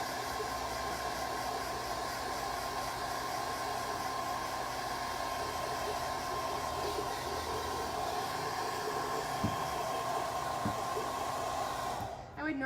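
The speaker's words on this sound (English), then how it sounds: "I would normally not recommend you dry top coat with a hairdryer." A handheld hair dryer runs continuously on a DIY wooden home sign to dry its top coat, a loud, steady whooshing drone that holds for the whole stretch and cuts off right at the end.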